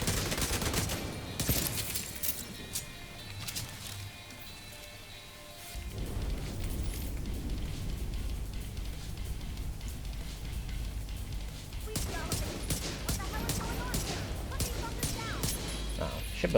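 Gunfire in The Division 2, bursts of shots crackling through the scene alongside game ambience, with a quieter lull midway before the shooting picks back up.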